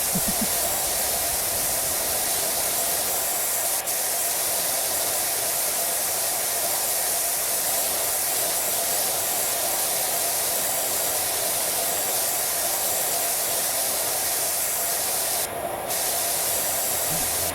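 A pressure washer sprays in the video game PowerWash Simulator 2, a loud, steady hissing jet that runs without a break, with no talk over it.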